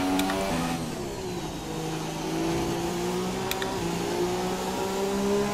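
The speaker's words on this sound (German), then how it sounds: "Der hört sich komisch an, so ein Motor." An F1 car engine in a racing video game, revving with rising and falling whine and sharp gear-change blips, moderately loud and steady without talk.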